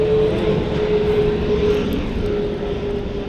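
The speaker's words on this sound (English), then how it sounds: "Man, I haven't heard an airplane in like 2 years, no lie." An airplane flies overhead at night, a steady, fairly loud propeller-engine drone that holds level throughout with no voices.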